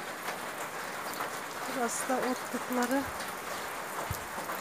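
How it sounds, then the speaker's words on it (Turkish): Heavy rain pours steadily in a village as a dense, even hiss, with someone speaking briefly over it partway through. "Çok yağıyor maşallah. Hiç durmadı."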